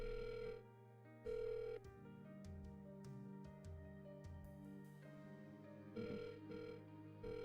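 Ringback on an outgoing phone call to a booking venue: repeated tonal rings through a phone speaker, quiet and evenly spaced, with faint background noises between them.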